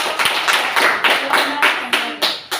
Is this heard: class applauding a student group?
yes